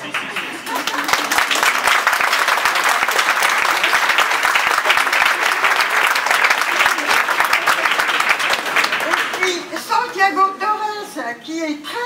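A museum audience applauds the support staff during a speech at a contemporary art museum in Villeneuve-d'Ascq, dense sustained clapping for about nine seconds before it thins out and voices take over.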